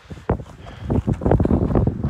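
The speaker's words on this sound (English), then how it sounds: "Might be a little windy up here," Gusty wind in the Badlands buffets the microphone in low, uneven rumbling bursts that swell and rise in loudness, close and rough, with no other clear sounds.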